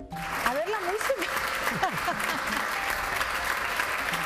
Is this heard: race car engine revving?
no